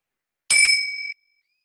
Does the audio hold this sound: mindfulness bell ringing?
yes